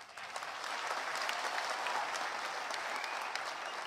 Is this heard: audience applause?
yes